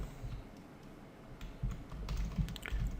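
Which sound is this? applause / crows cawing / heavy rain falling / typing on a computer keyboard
typing on a computer keyboard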